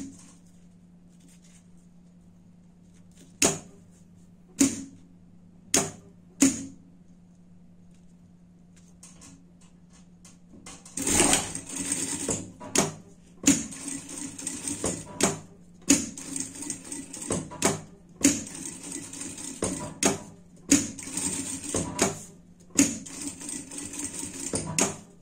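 Electric sewing machine stitching a seam on a pet treat pouch, first a few isolated clicks over a low hum, then bursts of rapid stitching in repeated runs with brief pauses between.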